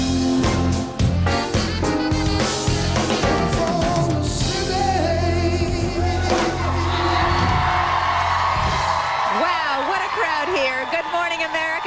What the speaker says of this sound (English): We have a huge crowd out in Bryant Park in New York City